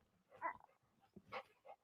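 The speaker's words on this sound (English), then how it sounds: "That doggy." A dog gives short barks and soft whimpers in two brief bursts, fairly close, with quiet gaps between them.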